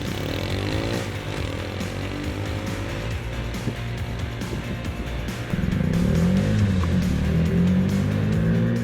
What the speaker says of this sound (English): it's clear now that the gas moped is significantly faster than electric fat bike